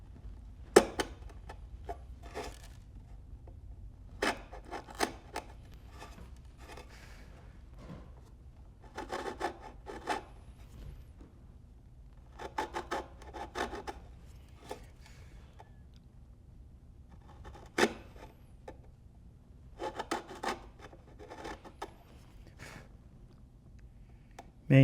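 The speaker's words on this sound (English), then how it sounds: "I'm using this 1/2 inch chisel with a 17-degree grind on it." A half-inch chisel with a 17-degree grind pares wood for a drawer stop, heard as close, sharp scraping cuts in short clusters separated by quiet pauses.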